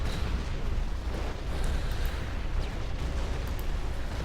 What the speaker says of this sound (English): Gorg is opening fire on the bunker, actually outside of the range of the nuke cannon.